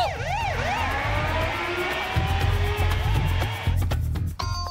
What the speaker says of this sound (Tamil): கரெக்டா ஆம்புலன்ஸ் வந்துருச்சு